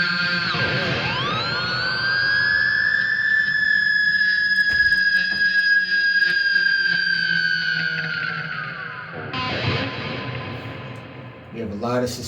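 Electric guitar squeal with whammy bar and delays, run through a compressor and pedal EQ for sustain: a loud, bending pitch-harmonic scream that swoops up and holds for about eight seconds, then cuts to a brief noisy burst.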